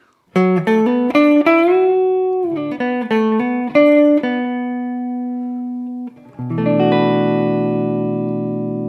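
Warm, rounded electric guitar on a Gibson Kirk Hammett "Greeny" Les Paul Standard's neck humbucker plays a run of clean notes, then pauses briefly before a final sustained chord rings out, played alone.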